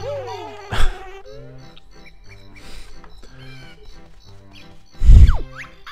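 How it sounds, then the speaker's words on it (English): Cartoonish buzzing and squeaky effects from bees in the Banjo-Kazooie video game, mixed with bouncy game music and a couple of loud thumps, close and prominent. "Get away, bees."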